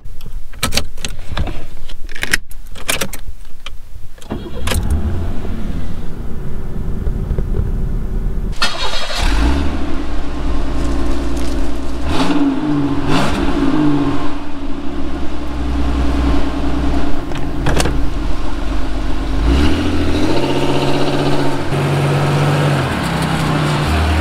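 A 1988 Oldsmobile Cutlass Supreme, back on the road after sitting since 2014, cranks and fires up, then its mid-pitched engine revs and pulls away, loud and close, with clicks and rattles before the start.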